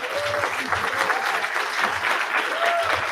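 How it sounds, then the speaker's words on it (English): Banquet audience applauds standing dignitaries at an NAACP freedom banquet, a dense, loud, continuous wash of clapping from a large indoor crowd, with a faint whistle or voice rising through it. "Give them a round of applause here."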